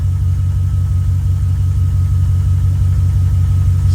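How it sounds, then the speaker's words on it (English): A Ram 1500 pickup truck with an oil pressure problem idles close by, a loud, steady low engine drone with faint rhythmic knocking and no voices. "it gets closer to like normal idling"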